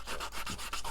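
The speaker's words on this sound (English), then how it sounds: "sanding down all my hard work" Hand sanding across a handmade ink box, a steady back-and-forth scratchy rubbing in repeated strokes, close and fairly loud with no talking.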